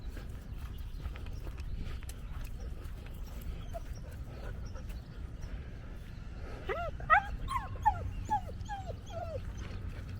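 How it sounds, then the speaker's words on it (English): A dog barks a few times in short bursts, fairly close, near a muddy riverbank in Philadelphia, over steady outdoor background noise. "you see a dog"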